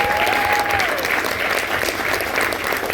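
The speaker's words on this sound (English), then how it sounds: "Just a massive round of applause again for Forbes" An audience at a songwriters' round event gives a sustained round of applause, thick and even clapping at full volume from start to finish, with a brief tonal whistle near the beginning.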